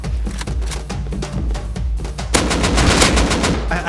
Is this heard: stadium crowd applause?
no